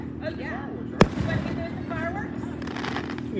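Independence Day fireworks boom outdoors, with one sharp, loud burst standing out over a continuous rumble of distant crackling while people talk nearby.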